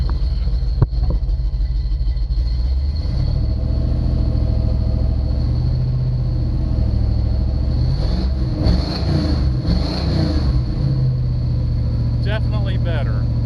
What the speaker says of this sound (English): Let's rev it up a little bit, see if it